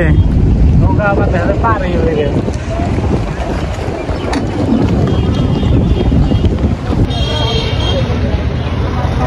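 Strong wind buffets the microphone steadily over the open water of Chapra Beel in Basulia, Tangail, with a boat's rumble beneath and voices talking through the roar.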